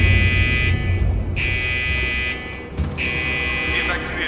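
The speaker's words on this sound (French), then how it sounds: "C'est l'alarme incendie du quartier Psy." Fire alarm in the psychiatric ward of a prison, a loud, continuous electronic buzzing tone broken by short gaps, heard indoors and close.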